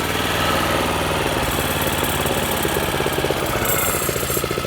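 A Toro 21-inch commercial lawnmower, model 22198, runs close by with a loud, steady, rattling engine drone and a rapid knocking pulse throughout, with no voices.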